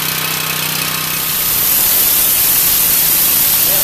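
A gas-powered pressure washer engine, just serviced with a cleaned-out carburetor, runs steadily at close range, its broad noisy roar building and holding at high level without any talk over it.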